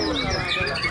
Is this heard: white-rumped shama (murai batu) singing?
yes